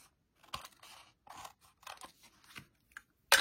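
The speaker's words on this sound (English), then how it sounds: "we'll take our scissors and just quickly trim off the excess on the back side" Scissors snip through excess paper on the back of a paper craft piece in a series of quick, close, separate cuts, with short quiet pauses between them.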